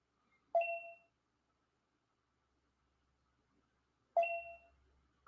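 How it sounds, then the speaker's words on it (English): A trading app's bell alert dings twice when big trades come in, each a bright short chime with a ringing decay, about three and a half seconds apart, clear and alone against silence. "You can hear it dings when the big trades come in"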